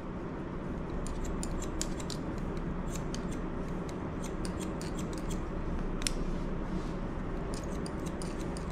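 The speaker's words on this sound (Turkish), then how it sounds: "Bak, en dipten giriyorsunuz makasla." Scissors snipping hair during an anatomical haircut, a run of quick crisp close snips in irregular clusters over a steady background hiss, no talk.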